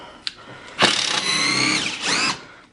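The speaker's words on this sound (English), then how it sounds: "So I'm just removing the bolts here" A power tool whirs in two short, close bursts while removing bolts from the top of a large shipping crate holding a CNC machine of about 250 pounds.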